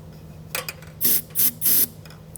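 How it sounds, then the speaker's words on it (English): Starting fluid from an aerosol can is sprayed into the spark plug hole of a snow blower in one short burst followed by three longer bursts, each a loud, close, hissing blast. "we're going to take starting fluid and spray it directly into the spark plug hole"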